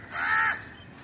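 A crow by its nest with a chick gives a single harsh caw lasting about half a second, fairly close and clear over a quiet outdoor background, with no talking.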